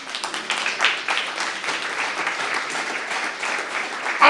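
A church congregation bursts into steady, loud applause that carries on evenly for several seconds, with many hands clapping together in a large indoor space.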